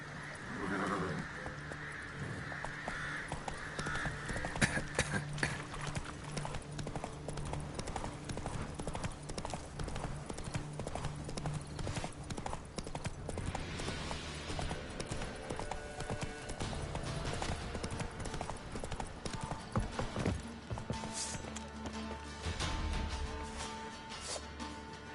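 Roach, a horse in The Witcher 3, trots with a steady, rhythmic clip-clop of hooves that runs throughout, joined by occasional neighs and soft game ambience.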